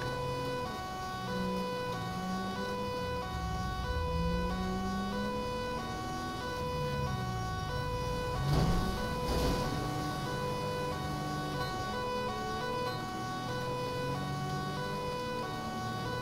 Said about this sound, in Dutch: Het is een hele langzame sirene zoals de Volvo's hadden.